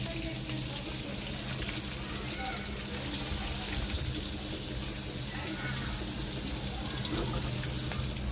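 Soaked moong dal sizzles in a hot tempering for an amaranth leaf stir-fry. The frying hiss holds steady and fairly loud for the whole stretch, with a faint voice murmuring underneath.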